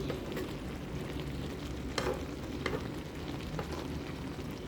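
Salmon belly with tomatoes and bitter gourd sizzles steadily over low heat, a soft continuous crackle and hiss with a few sharper pops, close and unbroken.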